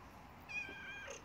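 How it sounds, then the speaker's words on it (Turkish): A young cat or kitten gives a short, clear meow partway through, close by and fairly quiet, with faint room background around it and no one talking over it. "Miyav dedi."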